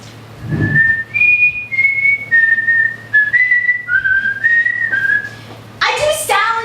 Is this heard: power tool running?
no